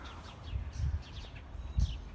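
Small birds chirp and tweet in short scattered calls, fairly faint, while a dog chases them outdoors; soft low thumps and rustles, likely footsteps or a leash tug, sit under the calls.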